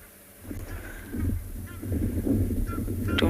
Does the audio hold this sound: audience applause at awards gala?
no